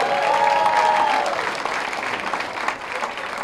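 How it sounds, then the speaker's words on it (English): Audience applause in a comedy club, loud and continuous throughout, fading slightly toward the end with a short whistle near the start. "Clap for this Marco motherfucker"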